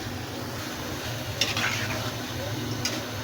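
Potato and besan pakoras frying in hot oil, a steady soft sizzle running throughout with occasional stirring clinks against the pan near the middle and end.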